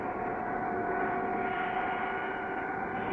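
A cartoon airplane engine drones on in a steady, even hum while the plane cannot climb, sustained and unchanging with no voices.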